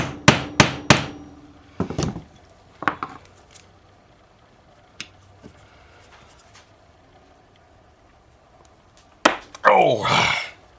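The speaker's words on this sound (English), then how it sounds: "Let me grab a hammer real quick." Several sharp metallic hammer strikes in quick succession on a Mastercraft (MTD) snow blower under repair, then scattered knocks and clatter, ending in a burst of rattling metal noise.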